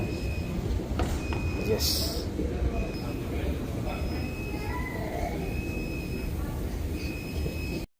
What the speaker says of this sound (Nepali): मेट्रो आउँछ अब त्यहाँबाट अनि बल्ल जाने